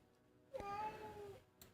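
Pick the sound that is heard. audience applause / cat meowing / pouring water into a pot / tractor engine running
cat meowing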